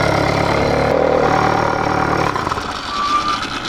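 A YD100 motorcycle engine running after a ramped piston job, loud and close, a rough mid-pitched idle that drops off midway and then carries on more unevenly.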